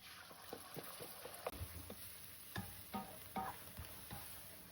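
Eggs fry in a smoking-hot pan for fried rice, a soft sizzle with scattered stirring and scraping knocks, faint and close without any voices.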